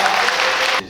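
Audience at a church lecture hall giving dense, loud applause that fills the whole second and cuts off abruptly at the end.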